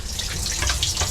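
Water rushes steadily into the live well of a 2021 Smokercraft 172 Osprey boat, a close, continuous splashing flow that stays even throughout.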